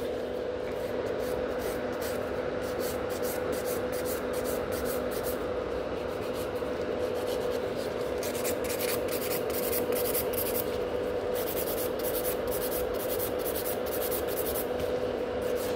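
Nail file working over gel nails with glitter sealed under clear gel in a salon, a steady scratchy rasping that runs continuously beneath a constant low hum.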